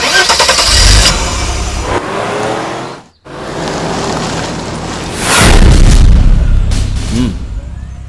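A car engine starts and roars loudly in a tense Tamil thriller scene, its noise filling the mix with booming swells, a brief dropout midway, then a renewed surge.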